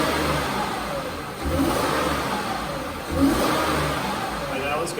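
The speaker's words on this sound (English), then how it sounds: "when we snap the throttle, that's when we really see the problem" A misfiring 2007 Mazda MPV engine is revved with quick throttle snaps, rising in two distinct surges over a running engine heard close up.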